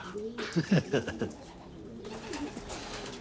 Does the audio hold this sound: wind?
no